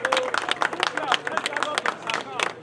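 A crowd claps at an outdoor birthday event in Nigeria, a quick, uneven patter of many hands close by, mixed with people talking over it.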